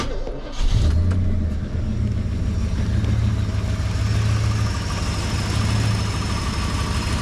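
A Holden VN Calais with a 5.0L V8 fires up with a sharp start, then holds a loud, steady, deep idle close by, with no talking.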